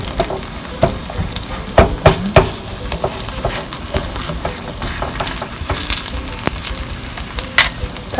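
Kimchi pancake batter made with Korean pancake powder fries on a grill pan over moderate heat, giving a steady close crackling sizzle with a few sharper pops and stirring scrapes.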